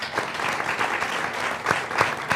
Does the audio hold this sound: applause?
yes